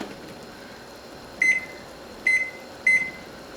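A kitchen timer gives three short, bright electronic beeps at irregular intervals while it is set, with no talking and only a low room hum underneath.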